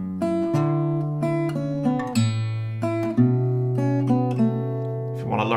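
Acoustic guitar picking the melody of a song, a slightly irregular line of clear, sustained plucked notes that ring into one another, played close and alone with no talking.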